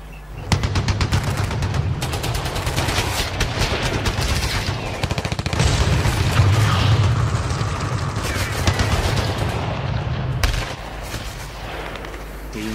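Comedic bomb sound effect: dense, continuous booms and rapid gunfire-like blasts rumbling loudly for over ten seconds, with faint voices mixed underneath.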